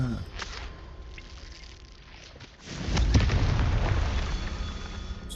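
A Confringo spell explodes in Hogwarts Legacy, a loud, deep burst that swells up midway and rumbles on to the end over a low game background.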